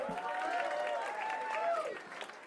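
A comedy club audience at a Boston comedy festival applauds a departing comic, steady clapping and crowd noise filling the room for a couple of seconds while a host's voice carries over it.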